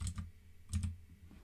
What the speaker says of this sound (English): we want to go to the search box here again and type out troubleshoot